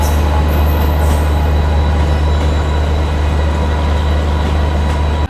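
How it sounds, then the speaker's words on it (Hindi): The Mandore Express, running Jodhpur to Delhi, rolls into a station with a loud, steady low rumble of wheels and engine, nearby and constant. "ये आ गई अभी मंडोर एक्सप्रेस जोधपुर दिल्ली"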